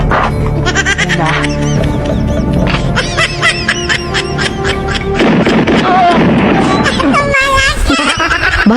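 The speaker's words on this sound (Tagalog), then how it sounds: "Kambing lang pala, mahal." A goat bleating loudly among music and comedic sound effects, with voices and laughter mixed over it throughout.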